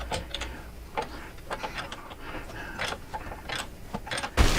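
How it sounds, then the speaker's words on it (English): An Allen wrench working a shock bolt loose on a trike, giving soft, irregular metallic ticks and scrapes close by over a low background, with a brief knock at the end. "I can get my Allen wrench in here to get this shock bolt off"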